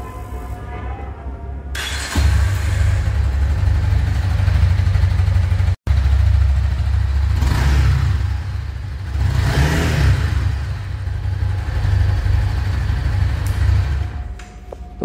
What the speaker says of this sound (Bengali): তো বাইকের এক্সাস্ট সাউন্ডটা কিছুটা এইরকম